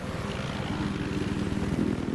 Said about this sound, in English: I haven't flew a helicopter in a long time, so I gotta work on my aim.